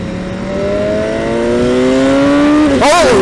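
A 2018 BMW S 1000 XR motorcycle engine accelerates hard, its whine rising steadily in pitch through a long pull. It then shifts and surges again near the end, heard close over wind noise.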